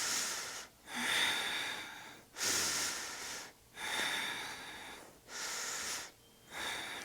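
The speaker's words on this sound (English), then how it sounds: "Breathe." Heavy, rhythmic breathing during a yoga flow, close and loud, with five or six long airy breaths cycling evenly and short gaps between them.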